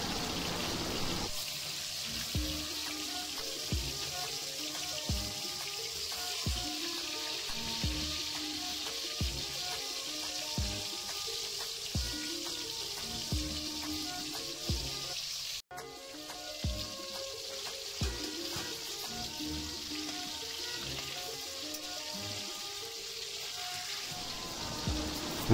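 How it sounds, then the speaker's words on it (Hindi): Indian piranha fish deep frying in hot mustard oil gives a steady, close sizzle and crackle with small rhythmic pops, continuous for the whole stretch with one brief break. "सोरिस तेल हमर गरम हो गेलानि, तादरे माछटा को भल से डीप फ्राई कर दबा।"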